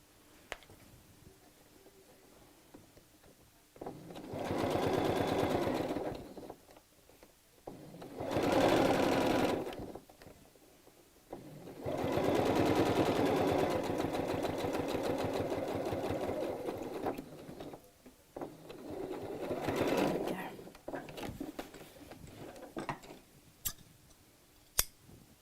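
Sewing machine stitching a zip into a skirt runs in four separate bursts of steady mechanical whirring, with quiet pauses and small clicks and handling noises between runs; no one speaks.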